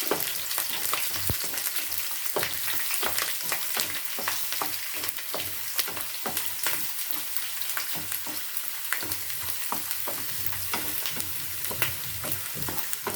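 Garlic frying in a pan of oil for lemon pickle, a steady close sizzle with occasional stirring clicks and scrapes running throughout, no talk.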